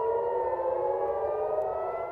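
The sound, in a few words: air raid sirens in Tel Aviv during missile attack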